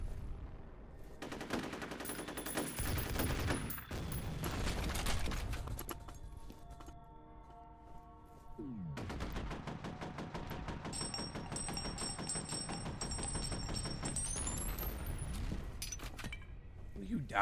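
Video game 5.56 rifle fire rattles in rapid automatic bursts, loud and close, with gaps between volleys and a voice talking over parts of it.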